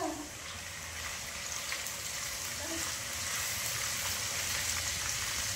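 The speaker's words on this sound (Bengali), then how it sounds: "রসুনগুলো ভাজা হয়ে যেতে এবার দিয়ে দিয়েছি আদা কুচি" Garlic and chopped ginger frying in oil for a tarka, a steady, even hiss of sizzling that holds throughout, fairly quiet and close with no talk.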